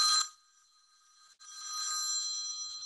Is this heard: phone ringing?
yes